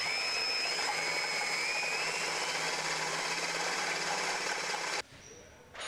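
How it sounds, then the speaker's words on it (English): A power drill with an 11/32 bit whines steadily for about five seconds, opening pilot holes for a DXT plow shoe option kit, then stops abruptly, leaving a quiet tail. "So using an 11/32 bit, I'm gonna just simply follow through those pilot holes,"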